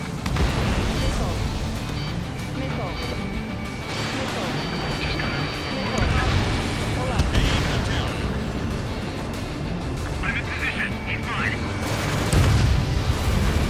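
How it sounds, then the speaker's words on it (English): A missile launches in the Ace Combat 7 jet combat game, set against a steady roar of jet engines and rumbling explosions, with a brief whooshing release near the end amid continuous loud action. "Spare 15, launching missile."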